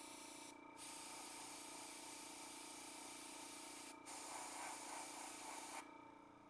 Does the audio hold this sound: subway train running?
no